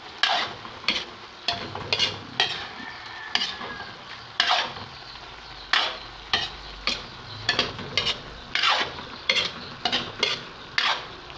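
Pork menudo with hotdog being stirred in a pan, a utensil scraping and clattering in repeated bursts about every half second to second, with a steady sizzle underneath and no talking.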